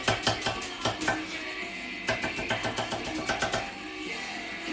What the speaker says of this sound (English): you can actually do this at the same time and chop your onions without looking